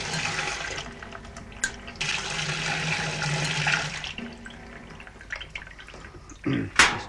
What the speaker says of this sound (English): if I release the pressure, the water will start coming out